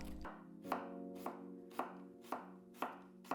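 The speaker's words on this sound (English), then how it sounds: "Start by chopping some scallion white and ginger." A knife chops scallion whites and ginger on a cutting board in regular, evenly spaced strokes, about six crisp thuds, close and alone.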